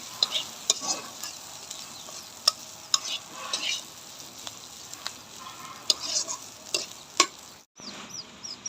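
Chanda fish frying in a pan with oil and coriander leaves, stirred by a utensil: a steady sizzle under repeated sharp scrapes and taps of the spatula, close and continuous with no talking.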